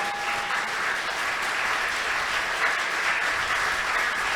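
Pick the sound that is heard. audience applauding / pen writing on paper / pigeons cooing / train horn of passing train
audience applauding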